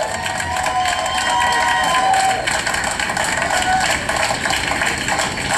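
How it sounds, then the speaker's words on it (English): A crowd at a political gathering applauds and cheers together, a steady, dense wash of clapping with whoops that keeps up throughout, with some voices mixed in. "give yourselves a round of applause"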